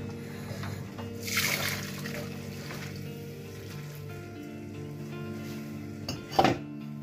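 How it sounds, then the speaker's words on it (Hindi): Boiled spaghetti and its hot cooking water are poured into a strainer in a home kitchen, giving a soft rushing splash that swells briefly, trickles on with a steady background hum, and ends with a short clatter. "गैस बंद कर देते हैं अब इसको हम छान लेंगे"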